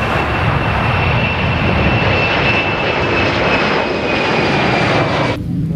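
Continuous roar of an airplane engine, like a large Airbus A380 cargo jet, loud and steady for several seconds before cutting off abruptly near the end, with no talking.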